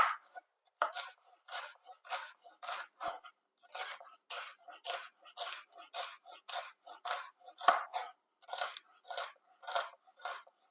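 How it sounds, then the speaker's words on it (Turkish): Red kapya and green peppers being chopped into cubes on a board: about twenty crisp knife strokes in a steady, even rhythm, close and clear with no talking. "1 adet kapya biberi, 2 adet yeşil köy biberini böyle hafif iri vaziyette küp küp doğrayacağım"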